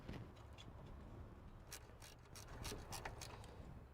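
A ratchet clicks in short bursts while bolts are driven in on the inverter water pump of a 2004-2009 Toyota Prius, close and fairly quiet, with no one talking.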